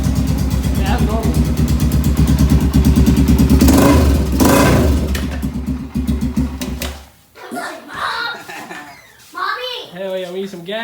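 A Honda 400EX ATV engine revving, a loud buzzing drone that rises and holds for several seconds, then cuts out to a quieter idle, with people talking over it and after it.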